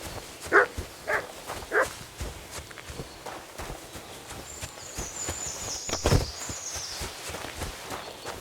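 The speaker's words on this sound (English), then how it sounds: "You silly doggy." A dog barks three times in quick succession in the medieval role-playing game Kingdom Come: Deliverance II, sharp and moderately near, followed by footsteps and a faint whistling tone with some quiet ambient noise around it.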